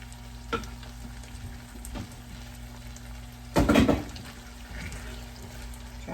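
Sauce poured into a hot pan for baked ziti with spicy sausage, a low steady frying sizzle with a brief louder surge of splashing bubbling midway, close, no talk.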